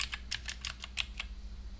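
Quick bursts of typing on a computer keyboard, about eight crisp key clicks spread over a second before a quiet tail, close and clear against a low steady hum.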